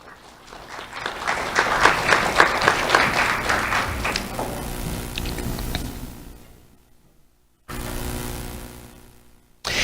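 Audience applause at a sheriff's office awards ceremony, a burst of clapping that swells, then fades out, followed by a short renewed patch of clapping after a brief silence.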